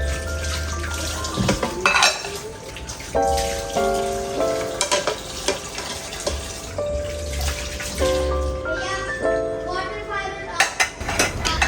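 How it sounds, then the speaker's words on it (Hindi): Breakfast dishes are washed by hand at a kitchen sink, with running tap water, clattering pots and clinking cutlery at close range, while background music plays throughout. "लेकिन ये जो नाश्ते के थोड़े से बर्तन होते हैं ना, और उसके फ़ौरन बाद अगर मुझे खाना बनाना होता है तो मैं उनको हैंड से ही वॉश कर देती हूँ"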